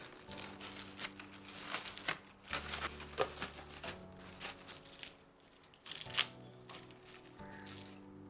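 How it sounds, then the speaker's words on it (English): Bubble wrap packaging pulled off the parts of a multipurpose folding table, close crinkling and rustling plastic in irregular bursts with scattered crackles, no talking. "Let me just unwrap the bubble covering"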